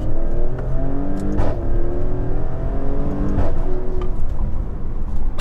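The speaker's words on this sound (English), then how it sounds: "Our engine tone, obviously different." Maserati Grecale V6 engine revving hard in Corsa mode with manual override, a loud, sustained rising and falling engine roar from inside the car, with no voices over it.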